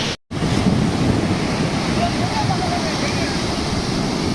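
Ocean surf at Mypad beach near Nellore, a loud continuous wash of waves with heavy wind noise against the microphone, starting after a brief dropout and running steadily to the end.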